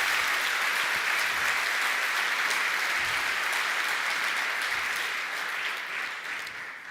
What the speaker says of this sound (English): Maybe some big round of applause for that.